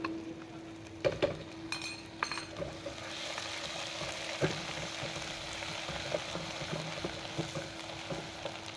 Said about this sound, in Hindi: वो ऐड करके इसको अच्छे से फ्राई कर लेंगे हम